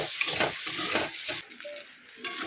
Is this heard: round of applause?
no